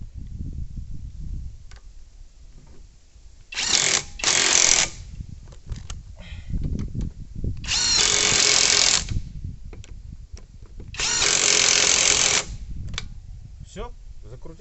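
A cordless ENZT 600 Nm impact wrench tightens a car wheel in three loud, buzzing bursts of about a second each, separated by pauses with clicks and someone speaking.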